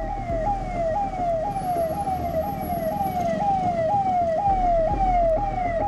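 An ambulance siren wails in a steady rising-and-falling cycle, loud and close, stuck in a traffic jam in India, over a constant low rumble of idling traffic.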